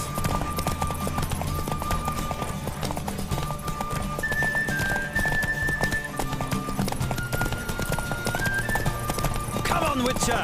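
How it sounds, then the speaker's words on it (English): Roach, the horse in The Witcher III: Wild Hunt, runs at a steady clip-clop of hooves with occasional whinnies under continuous game music, with a voice talking over it. "The Roach I chose put in a nice run."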